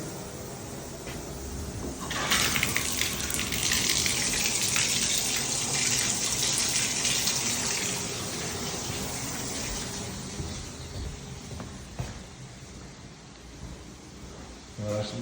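Toilet flushing with a loud rush of water that starts after about two seconds, then settles into a steady hiss of the tank refilling, heard close up in a house.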